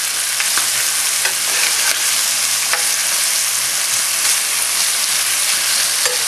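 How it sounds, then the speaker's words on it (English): Peppers and a tomato sizzle on a hot grill beside beef, giving a steady, dense crackle and hiss that runs unbroken with no voices. "I'm going to grill my peppers a little bit. I'm also going to grill the tomato to go on the side."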